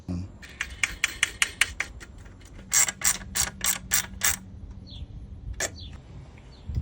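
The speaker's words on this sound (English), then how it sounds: "now we can take our supplied carriage bolt and mount the pedestal to the saw itself" A supplied carriage bolt is tightened to mount a miter saw pedestal on a DOVAMAN miter saw stand, giving a close run of quick ratcheting clicks in two bursts followed by a single sharp click, with no talk.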